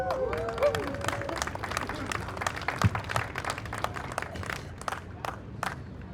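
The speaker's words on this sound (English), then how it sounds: "Y'all want to give it one more round of applause" Outdoor protest crowd gives a round of applause, scattered clapping and some cheering, moderately loud and continuous with people talking.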